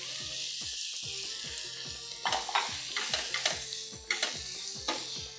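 Carrots go into hot frying oil and are stirred, a steady close sizzle with repeated scraping strokes of a utensil against the pan.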